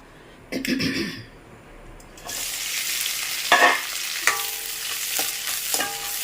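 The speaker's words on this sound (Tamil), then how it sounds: "கடாயில் எண்ணெய் ஊற்றிருக்கேன் இப்போ அதை நல்லா வதக்கிற போகிறோம்" Ripe green chillies, cut in halves, hit hot oil in a kadai and start sautéing, a sudden loud sizzle after a quieter start, with sharp clinks and scrapes of a stirring spoon against the pan.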